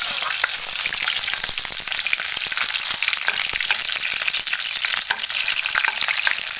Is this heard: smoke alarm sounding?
no